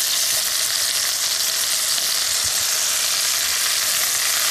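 Endives frying in a pan for an endive and ham dish, a loud continuous hiss and sizzle close up, with faint stirring and turning sounds underneath.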